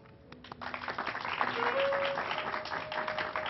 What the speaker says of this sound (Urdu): عمر ورک صاحب کے لیے ہم بار بار تالیاں اس لیے بجوا رہے ہیں